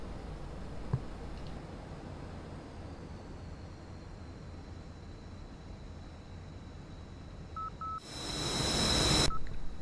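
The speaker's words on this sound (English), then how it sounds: "You have just passed the outer marker beacon" A MiG-29 flight video game plays short, repeated high beeps of a marker beacon tone near the end of the clip, over a steady, faint cockpit hum.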